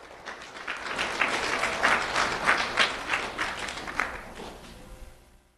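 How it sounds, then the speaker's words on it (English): A round of applause from an audience at a school recognition ceremony, for an elementary student being honored; steady clapping swells and then tapers off toward the end. "Let's have a round of applause for Rodolfo Pacina Lerma."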